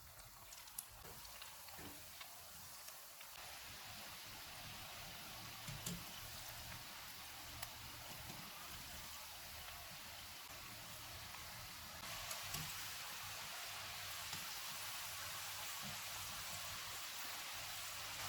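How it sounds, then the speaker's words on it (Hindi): Potato roll samosas fry in hot oil over a medium-low flame, giving a continuous dense crackling hiss that sounds like rain on a surface, with scattered small pops and a step louder partway through. "रोल फ्राई हो गए हैं।"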